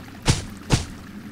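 Two short splashing gushes of water about half a second apart in Portal Knights, each a brief broadband burst with a low thump, fading back to a quiet watery background.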